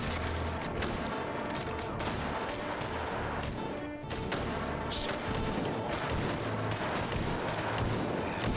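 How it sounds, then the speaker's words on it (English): Sustained suppressive fire from twin guns in the VR shooter H3VR, dense rapid shots crashing continuously and loudly across the whole stretch with barely a pause near the middle. "Suppressive fire. Twin guns, baby."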